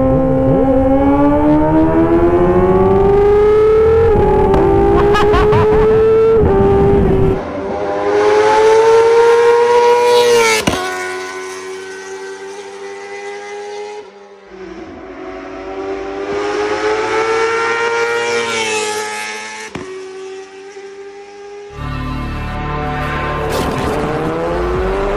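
Kawasaki ZX25R and ZX4RR motorcycles race along a savanna road, their high-revving engines wailing loudly and climbing in pitch through the gears, cut by brief gaps at each shift.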